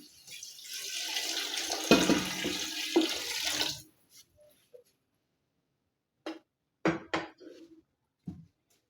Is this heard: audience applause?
no